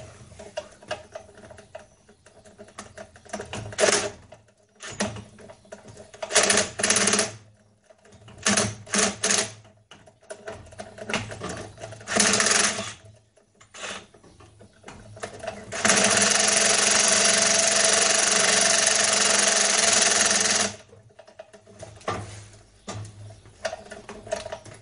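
A power driver drives screws at a workshop bench while a sanding station with dust extraction is being built. Several short whirring bursts come first, then one long sustained run, close and fairly loud, with no talking.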